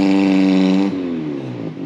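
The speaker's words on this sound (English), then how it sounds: "Certainly sounds like his engine is working now." A car engine running after a jump start outdoors, a steady close idle hum that drops in pitch and settles about halfway through.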